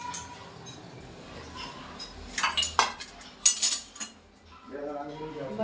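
Dishes and utensils being washed in a home kitchen, with scattered clinks and clatters of metal and crockery that swell into a louder burst of rattling, followed by a voice speaking.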